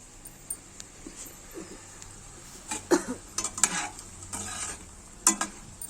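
A pan of prawn curry is stirred as its water cooks off, giving a steady low sizzle under repeated scraping and clinking strokes of a spoon against the pan, which grow louder and denser toward the end.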